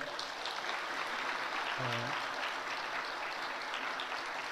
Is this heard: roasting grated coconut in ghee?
no